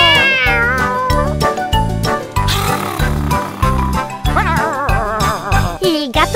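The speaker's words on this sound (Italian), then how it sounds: "Il gatto sul trattore fa miau miau" Repeated cat meows in a children's farm nursery rhyme, rising and falling cries over a steady, thumping bass beat of bouncy music, loud and up front.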